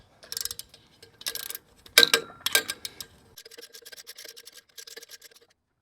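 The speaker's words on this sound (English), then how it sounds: "So I'm going to go ahead, remove our bolts just like we normally would." Bolts being removed from the wedge anchors of a pool ladder set in the deck, heard as sharp metallic clicks and ratcheting ticks in short irregular bursts, then a lighter, steady series of rapid clicks before falling silent.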